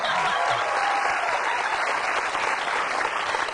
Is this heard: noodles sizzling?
no